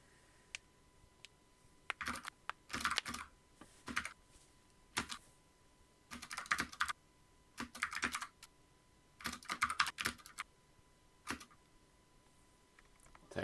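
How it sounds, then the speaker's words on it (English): Rapid bursts of computer keyboard typing in uneven clusters, close and fairly quiet, with short pauses between flurries and no talking over it. "Typing intensifies."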